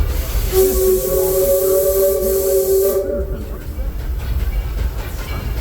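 A steam train of the Disneyland Railroad, pulled by the Ernest S. Marsh locomotive, rumbles steadily along the rails, with a sustained tonal hum and hiss that fades into lighter rattling and clatter.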